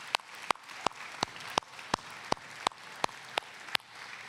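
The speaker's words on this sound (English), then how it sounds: "will you help me clap for them?" An audience at a kindergarten graduation claps in a steady, evenly spaced rhythm, about three sharp claps a second, moderately quiet with no voices.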